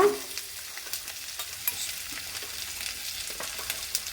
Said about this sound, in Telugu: తర్వాత దొండకాయలు వేస్తున్నానండి. మంచి కలపాలండి ఇది.